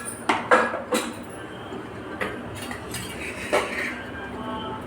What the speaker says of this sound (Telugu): కడాయి తీసుకొని ఇందులో కొంచెం ఆయిల్ వేసుకోవాలి